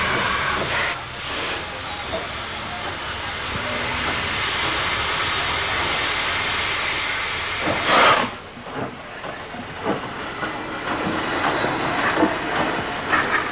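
A 425-ton articulated steam locomotive with tender creeps round the tight curve of a wye, giving off a loud, continuous hiss and rumble with a brief louder burst partway through and a voice talking over it.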